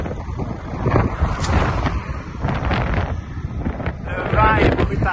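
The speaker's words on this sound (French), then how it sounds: "Le vent est brutal. Tous les jours depuis une semaine. On se bat contre le vent." Strong wind buffets the microphone in gusty, rumbling bursts that rise and fall over a few seconds, loud and close.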